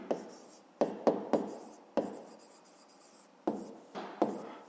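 Pen writing on paper during a fifth-grade math exercise: a series of short, close scratchy strokes in quick irregular bursts with brief pauses, no talking.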